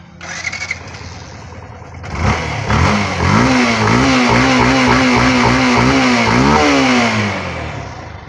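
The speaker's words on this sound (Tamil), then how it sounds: "இப்போ பைக்கை ஸ்டார்ட் பண்ணி பார்ப்போம்" A motorcycle engine cranks briefly, catches, and settles into a loud, steady idle with a few throttle blips rising and falling.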